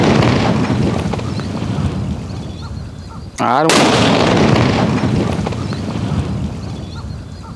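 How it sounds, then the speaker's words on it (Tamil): A mega-sized paper bomb firecracker bursts outdoors in a village with one sharp, loud blast midway, followed by ringing echoes and noisy wind, after a voice counts down. "இந்த mega sized mega powered paper வாமா நான் தான் வெடிக்க போகிறேன்"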